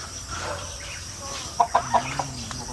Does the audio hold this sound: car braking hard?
no